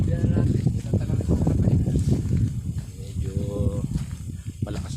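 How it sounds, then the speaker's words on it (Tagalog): Strong wind roars and buffets steadily throughout at a farm in Castillejos, Zambales, with people talking over it and a few clattering noises. "sobrang lakas ng hangin"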